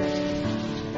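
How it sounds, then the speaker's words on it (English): Brief summer rain shower, a dense steady hiss of drops hitting a surface, close and even for about a second with no voices. "A summer shower."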